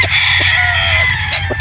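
A rooster, a cross with a Sweater Boston gamecock, crows loud and close in one long strained call. Other fowl and low background noise sit underneath.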